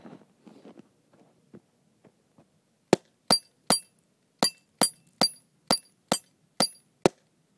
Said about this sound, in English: I'm just going to back up a couple of paces and shoot these spinners